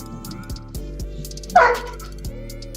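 One short, sharp bark pops up over background music, loud and close and heard by itself.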